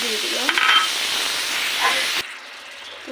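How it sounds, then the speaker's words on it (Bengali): Spices sizzling and hissing in hot oil as they are fried down for a fish curry, a steady broadband sizzle for about two seconds, then quieter, with a brief spoken phrase. "মাছটা রান্না করবো, তো মশলা কষাচ্ছি"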